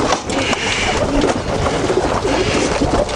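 Pigeons coo in a loft, soft throaty calls overlapping close by amid rustling and flutter, with a steady busy background and no one speaking.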